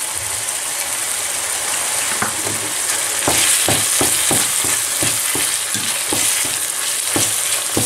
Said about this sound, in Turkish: Salça kavruluncaya kadar, yani o ekşi tadı geçinceye kadar kavurma işlemine devam edeceğim.